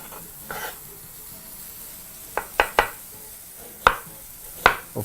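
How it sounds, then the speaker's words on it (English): Knife slicing half a red onion into very thin slices on a board, a handful of sharp cuts arriving in a loose irregular rhythm, close and fairly loud over quiet kitchen background. "Proceed to slice that into very, very thin slices."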